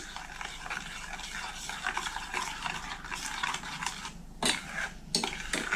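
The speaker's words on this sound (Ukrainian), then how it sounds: "Перемішую до розчинення желатину." Cherry jelly powder and soaked gelatin stirred by hand into a warm strawberry mixture, giving a steady, close scraping swirl with a few sharper utensil knocks against the pot toward the end.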